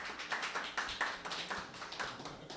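Faint audience applause at an open mic stand-up comedy show, a loose patter of scattered claps with irregular taps, heard from a distance and quiet.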